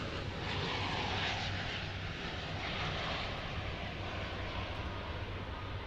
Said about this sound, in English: Frontier makes an appearance with an A321neo